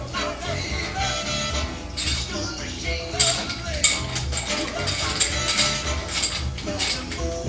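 A bolt is worked loose and removed during a teardown of a 455 engine on a corroded side, with metallic clinks, creaks and ratcheting clicks close up among other tool clatter.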